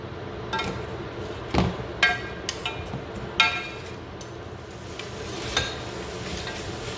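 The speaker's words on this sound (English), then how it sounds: "I'm just gonna saute all of this." Garlic, chili and onion sauteing in a pan, a soft steady sizzle broken by occasional scrapes and clinks of a stirring utensil, close and moderately quiet.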